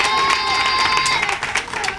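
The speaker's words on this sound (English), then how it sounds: "Could we give that recruit a round of applause?" Crowd applauding and cheering for the best recruit at a defence force passing out parade, a steady wash of clapping with shouts mixed in, continuous and fairly loud throughout.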